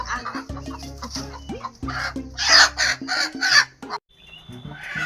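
Chickens cluck repeatedly, with a rooster-like call rising in the middle; busy farmyard bird noise, fairly close, no talking.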